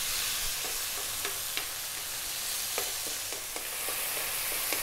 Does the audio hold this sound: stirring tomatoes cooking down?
yes